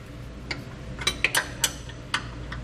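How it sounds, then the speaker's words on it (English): A 15/16 wrench ratchets in short, quick metallic clicks while tightening the top bolt of a Firestone Ride-Rite air helper spring, the ticks coming in small irregular bursts, close and fairly quiet. "We'll use a 15/16 wrench to tighten down our top bolt."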